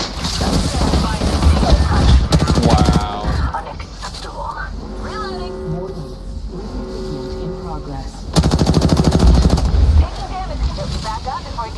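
Gunfire in a Halo video game, loud rapid bursts with two heavy volleys standing out, mixed with game sound effects and voices talking throughout.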